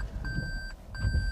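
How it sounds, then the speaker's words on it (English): Inside a 2018 Toyota Prius in reverse, a backup alarm gives two clear, evenly spaced electronic beeps, close and moderately loud over a low cabin rumble. "one thing that I find super annoying here about the Prius is the backup alarm that it's got"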